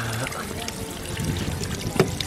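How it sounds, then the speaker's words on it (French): Water runs from a tap at the Lourdes grotto, a steady close splashing trickle that carries on without pause. "C'est l'eau pour me laver ça."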